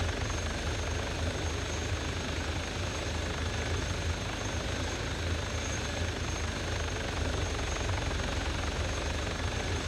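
A VTOL aircraft in a video game gives off a steady, loud rotor-like engine roar that holds unchanged and fills the whole stretch without a break.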